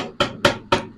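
A lid set down on a pot of chicken masala, heard as three sharp, loud metallic clanks spaced evenly about a quarter second apart, close up with nothing else around them.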